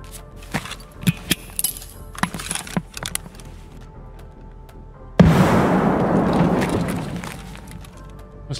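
A grenade bursts in Escape from Tarkov with one sudden, loud blast that rumbles and fades over several seconds, after scattered sharp knocks and thuds.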